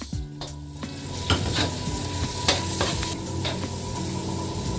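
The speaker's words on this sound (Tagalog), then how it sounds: "Lulutuin natin yung chami." Onions sizzle and crackle in a hot pan while cooking chami noodles, a steady close frying hiss broken by scraping stirs and light clinks of a utensil against the pan.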